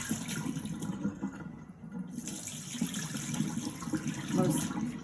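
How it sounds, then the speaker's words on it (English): Water pours and splashes out of a pot of cooked pumpkin into a sink, a close, uneven gush that swells and surges over a few seconds. "I'm gonna dump all this water."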